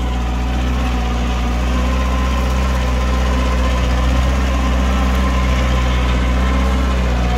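A heavy VST Shakti 927 tractor engine drones steadily and loudly at close range while working a field, a constant low rumble with no pauses.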